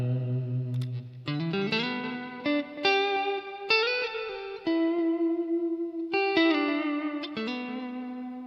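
Clean electric guitar played through a ToneX One amp capture: a run of ringing single notes and chords picked one after another, each sustaining with a bright, warm amp tone and light ambience, alone and up close.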